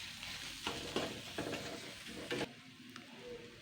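Onion masala with kasuri methi, turmeric, salt and sugar fries over low heat in a pan, with a soft sizzle and several scraping stirs, fairly quiet and with no talk.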